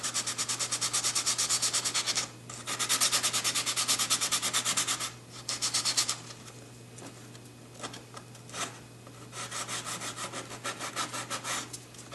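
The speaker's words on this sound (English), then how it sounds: "this is going to be easier if I use my Bondo spreader because it's a sharp edge and get down in that a little better" A sharp-edged Bondo spreader scrapes over body filler during paint prep, giving repeated rasping strokes in bursts with short pauses, close and fairly loud, with no talking.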